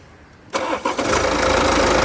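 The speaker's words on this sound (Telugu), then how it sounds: "ఒకసారి ఇంజన్ అనేది స్టార్ట్ చేసి చూపిస్తాను స్టార్ట్ చేయి" A 2016 BMW GT with an automatic gearbox starts up in a single crank: a short whir, a catch, then the engine settles into a loud, close, steady idle.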